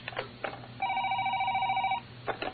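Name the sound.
telephone ringing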